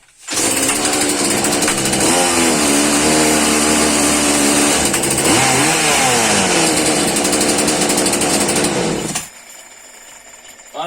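A Husqvarna 236/240 chainsaw with a chronic carburetor problem revs loudly close by. The engine whine rises and falls repeatedly, then cuts off abruptly, leaving near-quiet.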